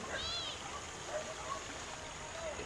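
Shallow stream water at a nature spot in Sta. Maria, Laguna, flowing and splashing steadily, with faint high calls over the continuous wash.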